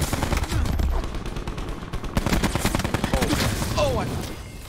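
Rapid automatic gunfire crackles in dense bursts during a Call of Duty: Black Ops 4 multiplayer match, loud and close, with a player's voice talking over the shooting.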